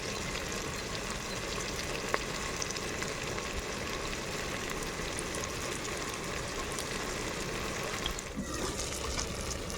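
Tomatoes, green chillies, salt and chilli powder frying for mutton dum biryani, a steady, moderately loud sizzle with occasional stirring scrapes and a brief knock, continuous throughout.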